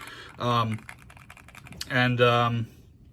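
Fast, full-speed typing on a mechanical keyboard fitted with Zeal Clickiez switches and Cherry keycap tops makes a dense, clicky patter between two stretches of talking nearby.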